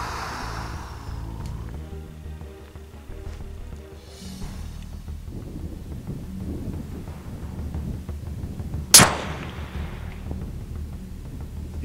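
A single sharp rifle crack rings out during long-range target practice at 300 yards, standing out briefly against a low outdoor wind and ambient rumble.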